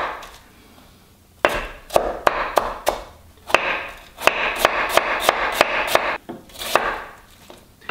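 Kitchen knife slicing fresh vegetables for cortido, a fermented cabbage slaw, on a cutting board: close, crisp chops that come in quick runs of steady rhythmic strokes separated by short pauses.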